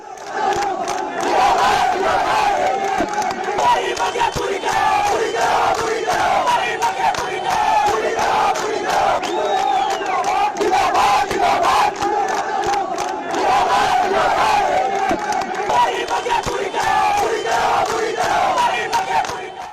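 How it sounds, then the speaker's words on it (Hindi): Dense crowd of Hindu organisation protesters surrounding a mosque, a continuous roar of massed voices and chanting shouts filling the whole stretch, loud and steady with surging peaks. "हिंदूवादी संगठन प्रदर्शन कर रहे हैं कि मस्जिद पर बुलडोजर चलना चाहिए"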